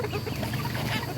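Houdan chickens clucking softly in a brooder, a dense, continuous murmur of low clucks and faint chirps close by, with no talk over it.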